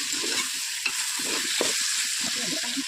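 Spices are stirred into vegetables in a hot pan, giving a continuous frying hiss with irregular scraping and tossing knocks from a spoon, close and steady with no voices.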